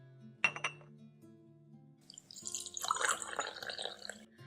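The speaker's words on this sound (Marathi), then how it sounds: "तिने गॅस बंद करून तो उकळलेला चहा कपात गाळला" A sharp glassy clink of a cup, then a trickle and splash as boiled tea is strained from the pan into it, the pouring steady and close after a quiet hum.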